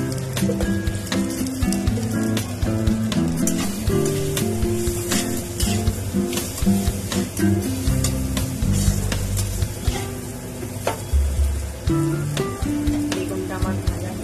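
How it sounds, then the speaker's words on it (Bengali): Eggplant frying in a pan for chachchari, a steady loud sizzle with stirring and scraping clatter throughout, no voices. "বেগুনটা আমার ভাজা হয়ে এসেছে"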